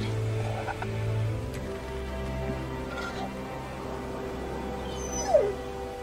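A dog whimpers in Telltale's The Walking Dead video game, with a thin, rising whine near the end over a steady low game soundtrack.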